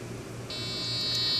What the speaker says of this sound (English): So as you can see clearly, the buzzer has sound for that time